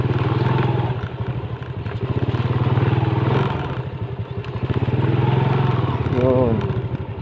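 A motorcycle labors through slippery, waterlogged mud on a rough rural track, its engine throbbing steadily and close, rising and falling with throttle while someone talks over it.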